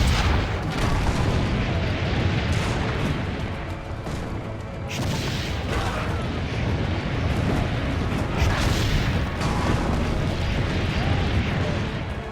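Cannon fire during a siege battle in the video game Assassin's Creed Brotherhood: a dense, continuous barrage of loud booms and blasts rolls on without letup, with faint voices underneath.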